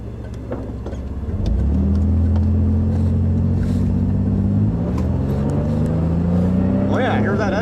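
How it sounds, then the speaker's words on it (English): An 1985 Camaro engine idles then rises into a steady, louder running drone, with a low hum shifting pitch slightly; faint background noises. "hear that engine? Yeah, that's that engine"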